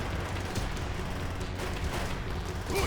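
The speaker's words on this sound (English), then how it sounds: "Fire the Panzer Schreck!" Panzerschreck rocket launcher fire in the Call of Duty: World at War battle of Seelow Heights, heard as a dense, steady roar of explosive blasts and gunfire filling the whole stretch with no speech.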